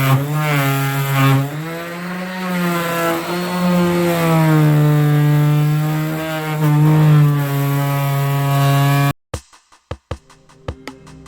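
A power tool's motor whines in a loud, sustained buzzing drone with a slightly wavering pitch as it cuts rotten wood aboard a narrowboat, then cuts out abruptly, leaving a few sharp clicks and knocks.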